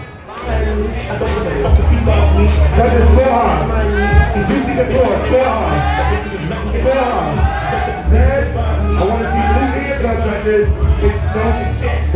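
A crowd at a ballroom voguing ball cheers, whoops and shouts over loud background music, with voices yelling throughout and a lively, continuous din that rises and falls.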